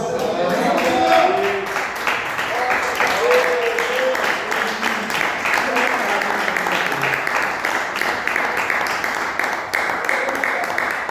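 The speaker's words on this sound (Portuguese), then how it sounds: "assentar glorificando a Deus com palmas" A church congregation applauds together in praise, a dense, continuous wash of hand clapping that holds steady and fairly loud throughout, with voices mixed faintly into the crowd noise.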